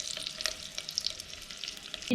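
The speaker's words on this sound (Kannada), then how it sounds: "ಹಾಕಿ ಸ್ವಲ್ಪ 2 ನಿಮಿಷ ಫ್ರೈ ಮಾಡ್ಕೊಂಡು ಇಟ್ಕೊಬೇಕು" Eggs fry in oil with turmeric and chili powder for egg biryani, a soft continuous sizzle with light crackles close by, ending in a louder clatter.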